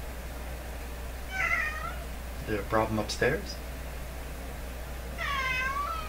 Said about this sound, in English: It's a bad time for you to be meowing at me.